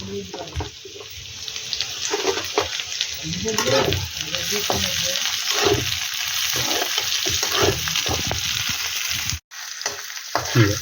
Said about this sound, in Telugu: ఉల్లిపాయ ముక్కలు వేగిన తర్వాత తరిగి పెట్టుకున్న క్యారెట్ ముక్కలు, పొటాటో ముక్కలు వేసుకుని కలుపుకోవాలి.